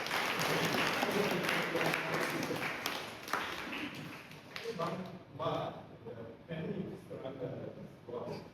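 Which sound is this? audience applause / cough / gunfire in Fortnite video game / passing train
audience applause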